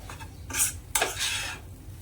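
Smashed potato is mixed with spices in a bowl, giving two short close scraping, rubbing strokes of a utensil against the bowl over a quiet background.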